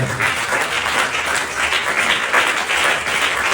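A church congregation at a Christmas service claps loudly and steadily in welcome, thick continuous applause from many hands throughout.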